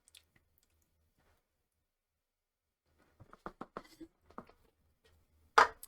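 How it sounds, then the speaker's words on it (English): Someone drinking close to the mic, a quiet series of gulps and swallows followed by a short exhale, after a long near-silent pause, with no talk. "I'm gonna take a drink really quick."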